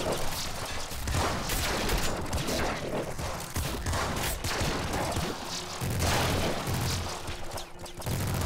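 Dense, continuous gunfire from a minigun and a Seeker shotgun in the top-down shooter Nuclear Throne, a loud unbroken stream of rapid shots and booms filling the whole stretch, with no talking.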